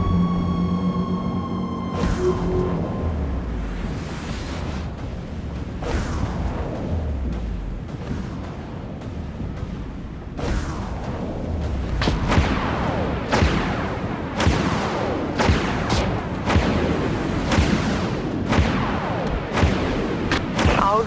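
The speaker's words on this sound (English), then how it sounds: "Launching vulture missiles." Vulture missiles launching in the game Dreadnought, a string of sharp blasts and whooshing bursts over about twenty seconds, irregularly spaced with a rumbling low background and a few tonal beeps early on.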